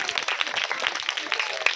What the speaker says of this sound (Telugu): క్లాప్స్ కొట్టండి రా, గట్టిగా గట్టిగా.